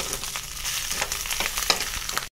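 Fish pieces fry in hot oil in a pan, giving a steady close crackle and sizzle with light stirring noises, with no talking, for a couple of seconds.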